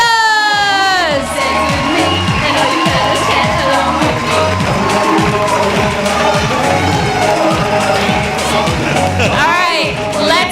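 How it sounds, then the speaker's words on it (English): A live audience at a dance show cheers, whoops and applauds loudly and continuously for the season 5 cast, with the crowd noise sustained throughout and a presenter speaking over it. "Give them one more big round of applause."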